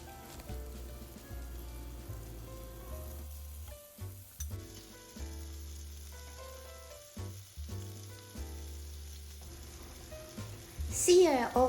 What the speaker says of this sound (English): Now I'm going to sear the shrimps.